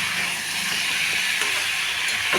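Potatoes are sautéed in a pan with a steady, close, hissing sizzle and faint scraping stirs, with no talking.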